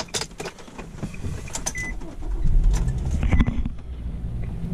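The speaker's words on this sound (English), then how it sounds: "this should start our vehicle right now" A 2013 Nissan Rogue starting with its twist-to-start e-key: clicks and faint whirring, then a rising low engine rumble as it catches and settles into a steady idle, close by, with no talk.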